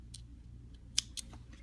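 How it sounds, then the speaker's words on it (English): Scissors snip through thread while a ball is being sewn from fabric triangles: a couple of quick, crisp metallic cuts, close and fairly quiet, over a soft steady background. "Snip it off."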